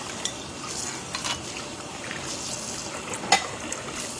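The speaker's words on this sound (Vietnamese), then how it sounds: "Hôm nay chiên cá khô đến chỗ ăn cho tiết kiệm." Dried snakeskin gourami fish frying in a pan gives a steady, soft crackling sizzle with faint stirring scrapes and one sharper clink near the end; no one speaks.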